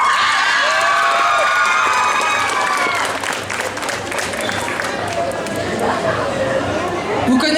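A crowd at a cosplay contest applauds and cheers loudly, dense clapping mixed with whoops and excited voices, while people talk over the noise.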